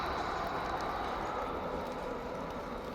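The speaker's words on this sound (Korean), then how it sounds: "기차 지나간다." A passing train rumbles as a steady, broad, continuous roar heard from a flower-filled vegetable garden, holding at an even loudness throughout with no talk.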